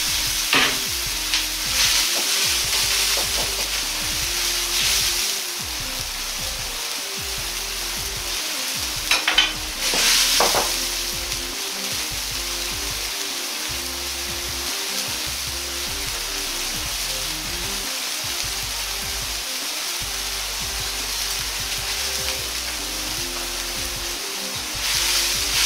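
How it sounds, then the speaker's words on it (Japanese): Napa cabbage and bacon simmering in chicken stock in a pan for a Chinese-style cream stew, giving a steady close bubbling sizzle with occasional stirring scrapes and clinks throughout, no voices. "白菜に油が回ったら、鶏ガラスープまたは元を取れたものを200cc で煮ていきます。"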